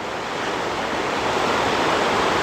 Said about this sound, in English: We are not only hiking along a beautiful river